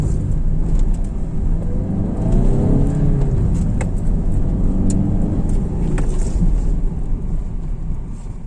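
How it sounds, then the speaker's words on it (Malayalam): A used car drives during a brake efficiency test, with loud, continuous engine and road rumble filling the cabin. "ഞാൻ ഈ വാഹനത്തിന്റെ ബ്രേക്കിംഗ് എഫിഷ്യൻസി ഒന്ന് ചെക്ക് ചെയ്ത് നോക്കാൻ പോയാണ്"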